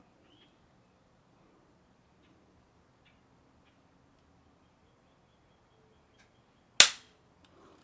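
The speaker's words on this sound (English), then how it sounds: "Oh, that was the last shot." A single sharp crack from a Lithgow LA101 .22 rifle firing Eley Tenex ammunition on a range, loud and brief with a fast decay after near silence.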